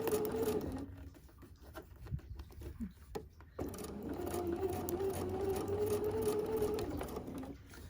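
A sewing machine stitches a quilt block with close, steady motor whir and rapid needle patter, pausing briefly partway before resuming its even run.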